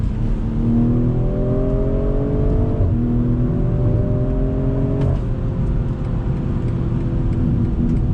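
A BMW M340i's inline six-cylinder engine hums smoothly while accelerating, its tone rising steadily through two gear shifts, loud and close from inside the car.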